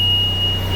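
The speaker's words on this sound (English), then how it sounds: "we hear the alarm right here" A glow plug alarm on an Onan 7.5 JB generator sounds as one steady, high-pitched tone held across the whole moment, over the low, constant hum of the running engine.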